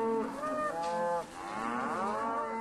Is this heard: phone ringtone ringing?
no